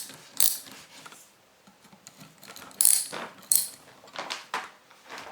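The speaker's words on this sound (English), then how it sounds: "Now undo the two bolts at the back." Ratchet undoes bolts on a side loader starter motor, with a few sharp clicking bursts and scattered metallic ratcheting ticks at close range, fairly quiet between strokes.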